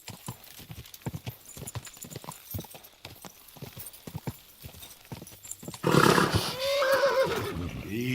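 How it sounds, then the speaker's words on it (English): Horse hooves in the video game Kingdom Come: Deliverance clop in a quick, uneven rhythm, then a loud, shrill neigh bursts out and wavers off into a drawn-out whinny. "Easy, good horse."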